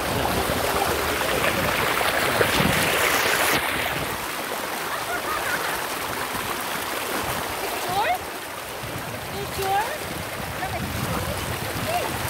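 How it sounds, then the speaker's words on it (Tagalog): A rushing river current at a riverside in Pangasinan makes a continuous broad roar of water with splashy surges, heard close and fairly loud, with voices faintly mixed in. "Yung mga tubig na nagraragasa."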